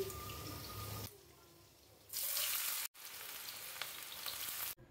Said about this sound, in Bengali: এদিকে আমি ফ্রাইড রাইসের সবজিগুলোকে একটু ভেজে নেব